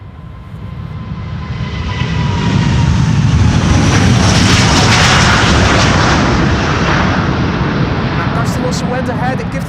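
A Delta Airlines jet on departure from runway 36L at Amsterdam Schiphol swells into a loud, broad engine roar that peaks and holds, heard from nearby in windy conditions.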